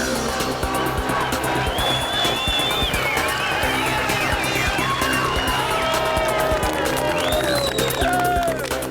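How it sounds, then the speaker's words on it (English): A large crowd applauds and cheers rally winners on the finishing ramp at the Donegal Rally, with sustained dense clapping and background hubbub, sirens or horns, and someone talking over it. "the atmosphere is electric as the winners mount the finishing ramp to rapturous applause"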